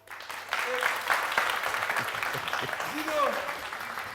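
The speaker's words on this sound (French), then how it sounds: "Merci de les applaudir bien fort." Steady applause from a TV studio audience fills the clip, a dense wash of clapping with a few voices and cheers mixed in.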